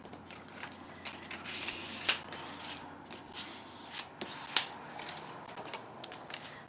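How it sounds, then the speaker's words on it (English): Paper file folder being folded and creased for a crafting project, crisp close rustles and a couple of sharp crackling creases, with quiet handling between them. "I go ahead and make my fold"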